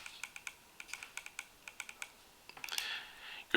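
Rapid clicks from the buttons on an IPV 5 vape mod, a steady series of close, sharp taps followed by a brief louder rustling burst at the end.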